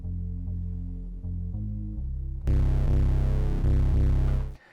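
A synth bass with its distortion turned off plays a few low, smooth, steady notes that change pitch. About halfway through, a much brighter, buzzier layer comes in and holds loudly before cutting off abruptly.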